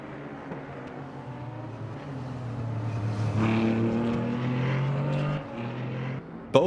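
Toyota engine of an LMP3 prototype race car in the Le Mans Ultimate racing game, a steady droning engine note rising in pitch as it accelerates, then easing off near the end with a brief sharp knock.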